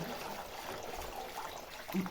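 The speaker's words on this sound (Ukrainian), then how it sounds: "Тому я просто наливаю воду." Water poured into livestock troughs on a village farm in winter, a steady soft trickling and splashing that continues throughout at moderate level.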